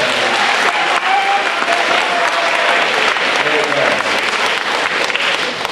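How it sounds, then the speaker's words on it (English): Loud, dense applause from an audience in a talk about poverty, cheering on a participant named Ryan, with a continuous roar of clapping and crowd noise held steady for several seconds, voices mixed in. "applause for Ryan"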